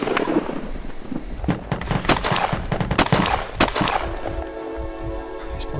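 Rifle shots in the VR game Train Chase crack out as a rapid run of sharp, loud reports over a rushing background, then stop, leaving a steady humming drone.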